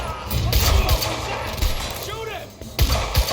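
Gunfire in the video game Quantum Break: loud bursts of shots and impacts crackle in clusters, mixed with game voices and other effects.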